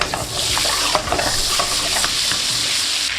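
Knobs of butter with a touch of olive oil sizzling in a pan: a steady, close hiss with scattered light crackles and occasional utensil scrapes, no voices.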